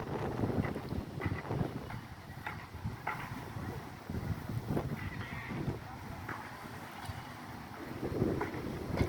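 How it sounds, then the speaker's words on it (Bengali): Strong Kalbaishakhi nor'wester storm wind sweeps across a large open field, a steady roaring buffet with gusts rising and falling throughout and no voices. "প্রচণ্ড বাতাস"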